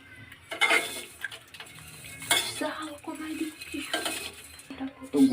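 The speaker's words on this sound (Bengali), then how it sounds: "আমি সেমাইগুলো একটু ভাইজে নেই।" Dry vermicelli (semai) is fried and stirred in a hot wok, giving intermittent metallic scrapes and clinks of the spatula against the pan in short bursts.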